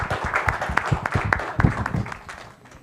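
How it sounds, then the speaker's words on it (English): An audience at a capital market and mutual funds seminar gives a burst of applause. Many hands clap densely together for about three seconds before the clapping thins and fades. "Give a big clap."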